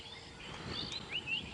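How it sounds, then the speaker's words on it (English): Faint, high, thin chirping calls from a bird out in the bush on a sunrise safari drive near Djuma, brief rising whistles over soft ambient noise. "you want to know what bird we can hear calling?"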